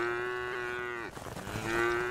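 Cattle in the survival crafting game Craftopia moo twice, a long drawn-out low call followed by a second one after a short break, heard on their own with no talking.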